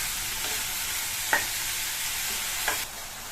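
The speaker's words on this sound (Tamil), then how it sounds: "இந்த காயை ஹை ஃப்ளேம்ல வச்சு 2 நிமிஷத்துக்கு நல்லா வதக்கி விட்டுக்கணும்." Chopped ridge gourd sautés over a high flame, giving a constant bright sizzling hiss, with two short spatula taps and scrapes close by.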